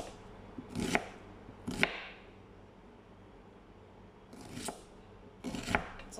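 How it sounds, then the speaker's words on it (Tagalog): Onion being chopped on a board while making breakfast, heard as a few sharp knife strikes in two pairs separated by a quiet pause. "At saka yung sibuyas, hindi natin yan nilalagay lahat, ha? Hatiin yan."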